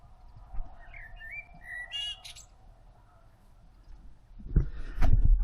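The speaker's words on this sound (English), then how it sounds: "There's the blackbird." A garden blackbird sings a short fluting phrase of whistled notes, moderately near, followed by quiet rustling and a louder thump or knock near the end.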